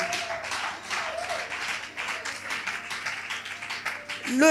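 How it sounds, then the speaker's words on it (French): A church congregation claps and cheers in a dense, steady wash of applause and voices that runs the whole time and swells slightly at the end. "Les acclamations du public là."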